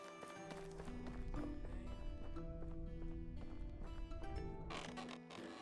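Horse hooves clip-clop in the medieval game Medieval Dynasty, a steady run of close hoofbeats with creaks and other game sounds layered underneath, fairly quiet overall.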